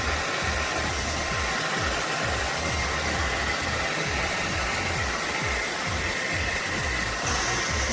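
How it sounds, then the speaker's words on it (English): A hair dryer blows continuously on hair during a final round of drying, a steady close whooshing roar with a low motor hum and no voices. "And then I go back in with one more blow dry just to make sure that I've gotten all the moisture out"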